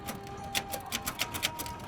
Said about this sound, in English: I certainly like the rhythmical sound of a typewriter.